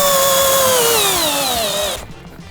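A Dnipro-M CD-218 cordless screwdriver drives a screw, its motor whining loud and close, pitch sliding steadily down as it strains under load, then cutting off abruptly.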